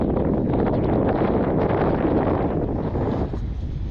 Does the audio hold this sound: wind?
yes